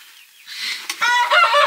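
Hens and roosters in a barn give a rising cluck and a short, bright, warbling call after a quiet start, close and fairly loud.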